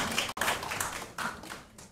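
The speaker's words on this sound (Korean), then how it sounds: "환영의 박수 부탁드립니다." Audience at a Korean labor policy forum applauding to welcome a guest, a short, fairly faint spell of scattered clapping in a hall, fading in waves toward the end.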